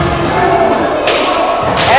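A kendo practitioner's front foot stamps hard and intensely onto the floor in a forward step, a loud thud within a noisy, reverberant hall ambience.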